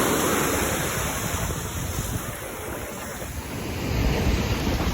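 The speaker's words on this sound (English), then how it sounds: "Y'all see the waves?" Ocean surf washing onto a beach, a steady broadband roar of breaking waves with wind buffeting the microphone, swelling louder near the end; no talking.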